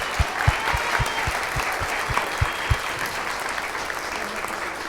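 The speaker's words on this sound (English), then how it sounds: "let's give them one last round of applause." An audience at a school board of education meeting gives performers one last round of applause, a sustained loud clapping with rhythmic low thumps pulsing beneath it in the first seconds.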